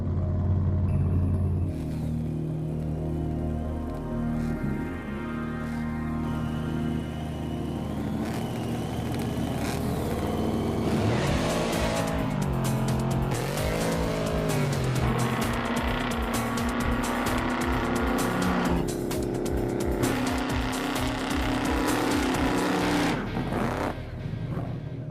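A 1957 Chevrolet classic car races in a makeshift street race, its loud engine roaring and revving hard for a sustained stretch, rising through acceleration with heavy low rumble and a harsh, gritty edge.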